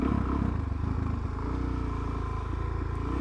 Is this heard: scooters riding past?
yes